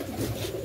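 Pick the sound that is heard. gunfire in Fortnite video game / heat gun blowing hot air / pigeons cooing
pigeons cooing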